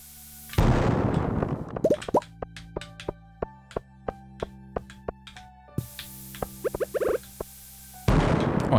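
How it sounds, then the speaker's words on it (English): Bombs go off one after another in a Stardew Valley mine, a burst of loud blasts followed by a string of short, sharp pops at a steady pace under game music, closing with another heavy blast. "We've got bombs, let's use them"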